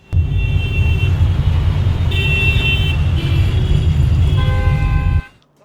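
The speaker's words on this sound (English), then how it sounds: "I'm now in the car headed to my hotel." Steady loud road rumble from inside a car headed to a hotel in Delhi, India, with faint horn toots and traffic around it; the engine noise runs continuously for about five seconds, then cuts off abruptly.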